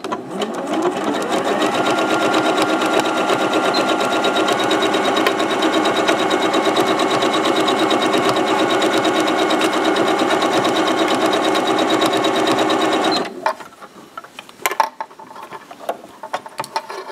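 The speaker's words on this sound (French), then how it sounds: "Donc maintenant, on va aller coudre notre bande donc, de bas de pantalon sur notre pantalon." A sewing machine runs continuously and loudly for about thirteen seconds while stitching a hem band onto the bottom of a pair of leggings, then stops, leaving quiet handling clicks and rustles.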